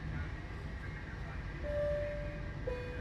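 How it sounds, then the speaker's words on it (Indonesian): An Indonesian Pasundan economy train pulls out of Kiaracondong station with a low, steady rumble of rolling wagons, and a brief tonal whistle or horn rises faintly above the noise. "pukul 11 lebih 10 menit kereta api Pasundan diberangkatkan dari stasiun Kiara Condong"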